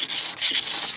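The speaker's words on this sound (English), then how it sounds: "Sanding all around the seam" 80-grit sandpaper rubbing along the seam of a leaking aluminum boat being prepped for sealing with Marine Tex, a continuous close, loud, raspy scrubbing with quick back-and-forth strokes.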